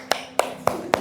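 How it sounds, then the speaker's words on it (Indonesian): A classroom of pupils gives a round of applause for a student group, heard as four evenly spaced, sharp clap bursts, like a rhythmic class cheer, fairly close and loud with no talking. "Oke, tepuk tangan semuanya."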